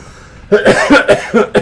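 Several short coughs in quick succession, close and fairly loud, following a brief quiet stretch.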